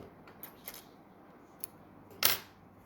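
Scissors snip through crochet yarn in a quiet indoor setting: a few faint small clicks, then one sharp, crisp close cut near the end.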